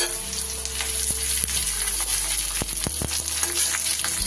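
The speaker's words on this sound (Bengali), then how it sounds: "তেল গরম হলে তেলের মধ্যে দিয়ে দিচ্ছি আমি 5-6 কোয়া রসুন, আর দিয়ে দিচ্ছি একটা বেশ মাঝারি সাইজের পেঁয়াজকে কুচো করে নিয়েছি" Five or six garlic cloves and a finely chopped medium onion hitting hot oil for a radish-greens mash, a loud steady sizzle with scattered crackles and pops, heard close with a low hum underneath.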